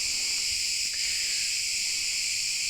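Crickets chirp in a steady, dense drone at night in Ayten Bay near Göçek, a continuous high shimmering buzz with no pauses, fairly loud and close, with no talking.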